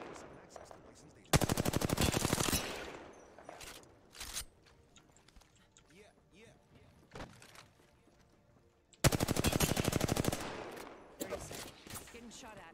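Two long bursts of rapid machine gun fire ring out loud and close in a video game, separated by quieter stretches of scattered shots, scuffling and a faint voice.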